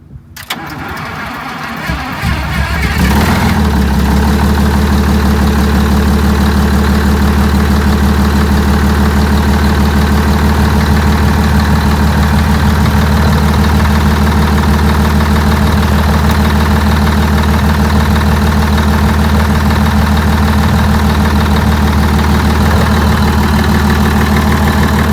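Detroit diesel engine in an MCI or Wanderlodge bus cranks briefly and catches, then settles into a loud, steady, low-pitched idle that holds unchanged with no talking.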